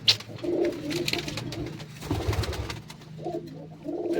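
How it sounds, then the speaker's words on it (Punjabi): Pigeons, including a female and young birds, coo in a low, repeated rumble close by, with steady overlapping calls throughout and no talk. "ਕਬੂਤਰ ਇਹ ਸੀ ਕਬੂਤਰੀ ਬੈਠੀ ਹੈ ਸਾਹਮਣੇ ਇਹ ਵਾਲੀ"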